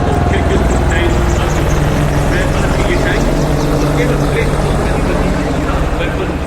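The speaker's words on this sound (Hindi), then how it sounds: "अपाचे अपने हवाई प्रहार से दुश्मन के सुरक्षा कवच को भेद कर उसे कमजोर बनाता है" Apache attack helicopter flying over the Republic Day parade on Kartavya Path, a loud continuous rotor thump and engine drone filling the scene, with a commentator talking over it.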